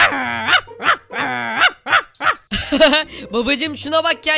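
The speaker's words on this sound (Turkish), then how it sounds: "bu köpek havlaması da ne böyle sabahtan beri?" A dog barks repeatedly in the Minecraft game, short bright yaps in quick bursts mixed with growly tones, heard close and loud alongside a person talking.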